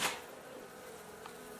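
Russian honey bee workers fly loose around a room, a soft buzzing hum heard close and faint for under two seconds, with no talk.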